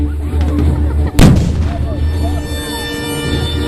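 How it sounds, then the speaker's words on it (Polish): Mortar fire at a battle of Breda reenactment honoring Gen. Maczek, staged at a military-patriotic picnic in Zabierzów: one sharp, loud blast stands out over a steady battlefield rumble. "I kiedy moździerz odpowiedział raz, drugi, trzeci. W broni maszynowej poszła seria za serią."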